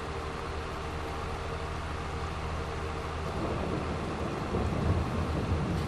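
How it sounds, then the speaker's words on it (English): Rain falls steadily in Farming Simulator 22 as a dense wash of noise, and thunder rolls in low and swells toward the end. "This rain will clear up here in a little bit"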